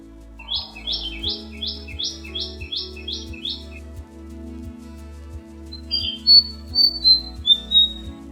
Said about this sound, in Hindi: और पक्षी जैसे मुहैया करा रहे हैं बैकग्राउंड म्यूजिक।